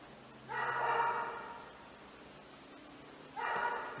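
A dog barks in two separate bursts, the first longer with several quick yips and the second short, both moderately near and clear against a quiet room with no talking.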